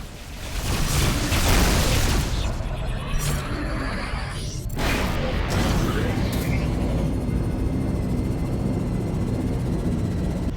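Missile explosions in the space-combat video game Rebel Galaxy boom and roar loudly, with a dense, sustained rumble and a sharp blast partway through, while a synthetic warning voice speaks over the action.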